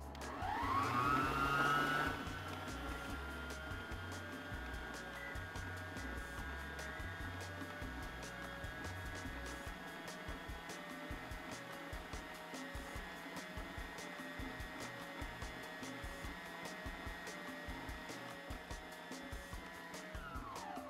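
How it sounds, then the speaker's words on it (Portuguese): A stand mixer running steadily while working potato bread dough, its motor making a continuous whirring hum that starts with a brief louder burst and then holds at an even level for about twenty seconds, with no talk. "eu vou ligar a batedeira e vou acrescentando a farinha aos poucos"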